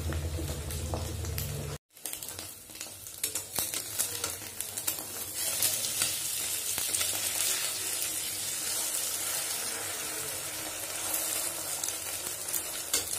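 An omelette fries in a wok. After a low hum and a brief cut, a dense, steady sizzle holds close and even for the rest of the clip, with faint scrapes now and then.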